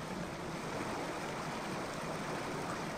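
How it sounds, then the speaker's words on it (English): A waterfall in the video game Indiana Jones and the Infernal Machine, heard as a steady, dense roar of rushing water that fills the whole stretch evenly with no breaks and no voices. "Swim down here underneath this right waterfall"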